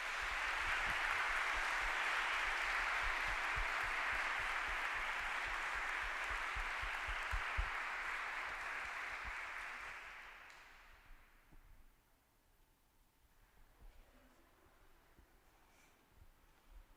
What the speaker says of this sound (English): And if we could give them all one last round of applause,